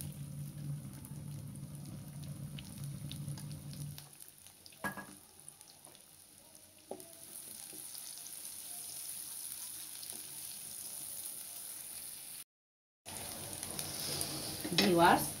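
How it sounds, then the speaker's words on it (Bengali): Chopped onions fry in about three tablespoons of hot oil in a pan for a Bengali hilsa curry, giving a steady, moderately loud sizzle with occasional stirring clinks, one brief dropout, and a faint rise in crackle near the end. "পেঁয়াজটা ভাজা হয়ে গেছে"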